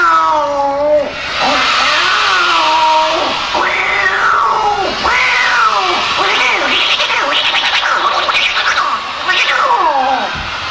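Children at a storytelling session imitate a cat, voicing a string of loud, close, overlapping meows that rise and fall in pitch one after another.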